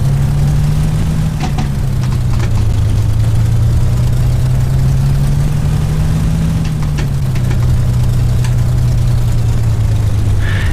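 A P-51 Mustang aircraft engine, as rendered in a flight simulator, idles on the ground with a loud, steady, low drone whose pitch sways gently up and down, with faint clicks but no voices.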